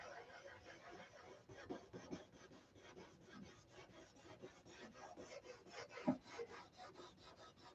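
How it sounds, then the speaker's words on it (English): Steady, rapid back-and-forth hand sanding strokes on a model stunt airplane rasp close by, a quiet continuous scratching rhythm with a small knock near the end. "You better be into sanding if you're going to be building one of these."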